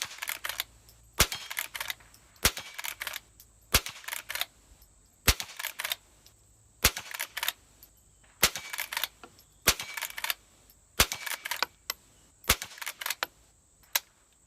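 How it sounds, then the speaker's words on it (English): An old Marlin Model 39A rifle fires round after round downrange at an outdoor range, about a dozen sharp, evenly spaced cracks roughly a second or more apart, close and loud with no talk. "So go ahead and put 15 more rounds downrange with it."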